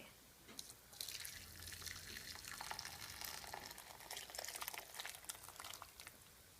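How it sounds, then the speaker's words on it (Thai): Soup stock made with bonito flakes and chicken powder poured into a container for Japanese steamed egg custard, a quiet trickling and splashing stream of liquid that starts after a second and runs steadily, heard close up and alone. "แล้วก็เทน้ำซุป"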